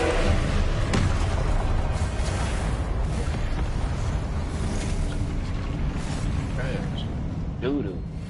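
Repeated Confringo spell blasts in a Harry Potter video game, booming explosions over a dense, loud rumbling bed with a voice calling out spells throughout.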